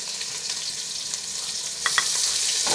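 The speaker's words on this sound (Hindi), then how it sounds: "हल्का सा सुनहरी होने तक प्याज को फ्राई कर लेंगे हम" Finely chopped onions fry with cumin in a pan, a continuous close sizzle with a couple of sharp stirring taps near the end, heard alone.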